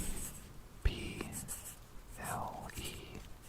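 A pen scratches out the word plesiosaur by hand in short, soft strokes, with quiet whispery talk mixed in.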